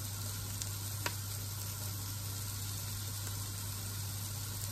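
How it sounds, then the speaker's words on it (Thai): Onions stir-fry with Thai curry paste in a large pot, a steady close sizzle with faint stirring scrapes and no talk. "ผัดให้เข้ากับหัวหอมใหญ่นะคะเขาก็จะหอม"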